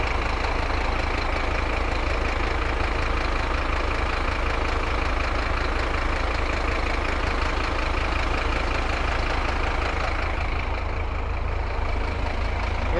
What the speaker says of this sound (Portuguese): Som do motor pra vocês